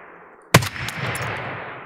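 A single loud rifle shot cracks out after a half second of quiet in Escape from Tarkov on the Shoreline map, followed by a long rolling echo and a distant impact as the round travels downrange.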